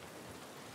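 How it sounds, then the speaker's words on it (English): Steady rain falls outdoors in The Last of Us Part 1 on PS5, a faint, even hiss of drops on surfaces with no talking over it. "This rain ain't gonna do us any good."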